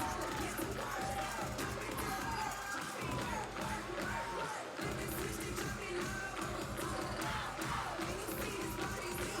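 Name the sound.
crowd singing and cheering at cheerleading competition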